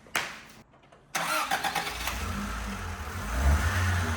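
A four-cylinder car engine cranks with a whirring starter, catches after a pause, and settles into a rough running idle that grows steadier and louder, close by.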